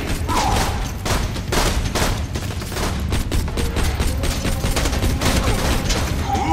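Dense gunfire in Borderlands 2, a rapid stream of overlapping shots and bursts throughout, loud and nearly continuous with occasional sharper cracks.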